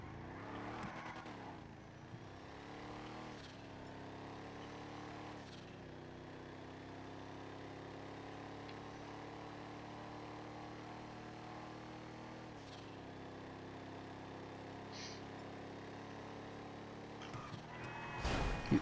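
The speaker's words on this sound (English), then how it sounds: "Listen to that turbo." A turbocharged car engine in a GTA 5 drag race, revving up through rising gear sweeps with sharp shifts, then holding a steady droning pitch at speed before a final burst near the end, with no talking.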